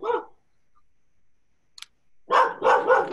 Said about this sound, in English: another dog walking up the road